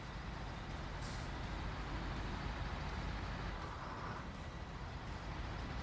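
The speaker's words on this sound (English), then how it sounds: "Why is my sound glitching like that? That might just be the truck." Heavy truck engine in the SnowRunner video game, a steady loud broadband rumble and hiss running throughout without a break.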